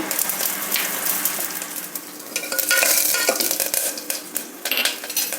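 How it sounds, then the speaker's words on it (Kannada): Mustard seeds, crushed garlic and curry leaves hit hot oil for a mint rasam tempering: a loud, close sizzle and spattering with scraping and clinks of a utensil against the pan. "ಎಣ್ಣೆ ಬಿಸಿಯಾಗಿದೆ ಸಾಸಿವೆ ಹಾಕ್ತಾಯಿದ್ದೀನಿ ಜಜ್ಜಿಟ್ಕೊಂಡಿರೋ ಒಂದೇ ಒಂದು ಕ್ಲವ್ ಬೆಳ್ಳುಳ್ಳಿ ಕರಿಬೇವಿನ ಸೊಪ್ಪು"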